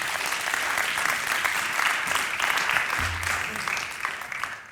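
An audience at a conference talk gives steady, fairly full applause that holds for several seconds before beginning to taper off.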